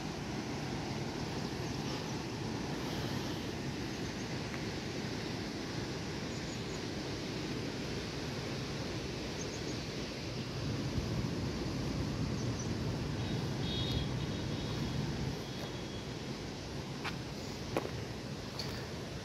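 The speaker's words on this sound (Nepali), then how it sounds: "अरे निकै ठुलो आएको रहेछ यो ठाडो खोला" A flash-flooded mountain stream in Nisikhola, Baglung, surging past houses, fields and the mid-hill highway, makes a steady, dense roar of rushing water that stays loud and unbroken throughout, with no voices.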